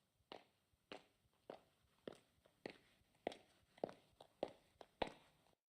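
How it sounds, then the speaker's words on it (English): Footsteps in the Steins;Gate video game come closer in a steady walking rhythm of about ten crisp steps, each sharp and growing slightly louder, with no other sound around them. "I hear footsteps approaching."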